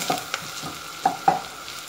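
Onions and garlic fry in a pan before chicken goes in for a chicken curry, a soft, quiet sizzle broken by a few light stirring scrapes.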